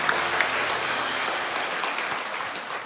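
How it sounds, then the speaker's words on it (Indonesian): A congregation at a church service applauds with steady, sustained clapping that fills the room evenly throughout. "tepuk tangan bagi Tuhan Yesus"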